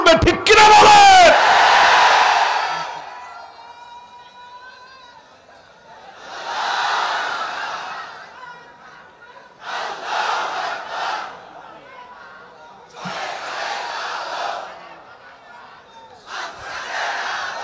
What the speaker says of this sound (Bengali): এই যে তাকবীর দিচ্ছি, তাকবীরের ভিতরে কার নাম বলতেছি ভাই?